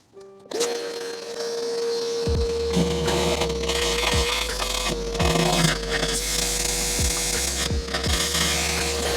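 A shop vac starts up and runs with a steady whine while sucking water out of an inground pool drain hole, with periodic gurgling surges as water is drawn in.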